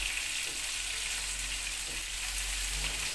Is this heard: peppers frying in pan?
yes